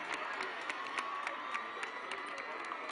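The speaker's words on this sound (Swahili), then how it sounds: "tuwashangilie kwa makofi tafadhali" A distant crowd at the opening ceremony of the Mombasa International Show cheers and claps in scattered bursts over steady background murmur, fairly faint and without clear speech.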